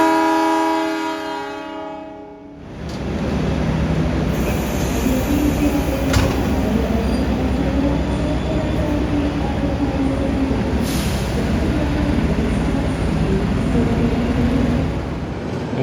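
Kamandaka passenger train on the Cilacap service pulls out of Kroya station in Indonesia. A brief tonal hum gives way to a loud, continuous rolling rumble of railcars close by, with faint screeches over the steady wheel noise.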